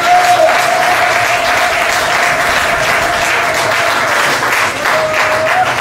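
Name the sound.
congregation applauding and cheering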